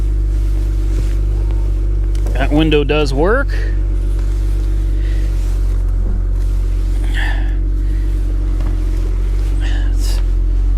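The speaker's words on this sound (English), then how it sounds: "Oh, that exhaust sounds good. Listen to that." A Chevrolet Camaro SS V8 idles with a constant deep exhaust rumble, loud and close, while a person speaks briefly over it and a short whirring mechanical sound rises and falls partway through.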